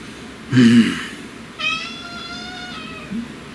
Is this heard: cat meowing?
yes